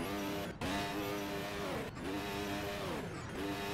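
An F1 race car in a Monaco league race video game, engine off throttle with the clutch in: a steady, loud buzzing engine drone with strong harmonics, dipping briefly three times as the pitch sags and rises.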